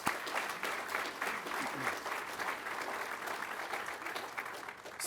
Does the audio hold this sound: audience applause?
yes